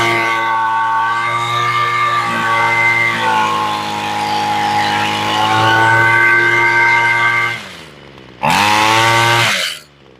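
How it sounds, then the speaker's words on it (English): A Homelite chainsaw engine revs loudly and steadily with a buzzing, rising and falling pitch during carburetor tuning, drops off, then snaps back up in a short high-rev burst. "now we're going to rev it up and then turn the high screw"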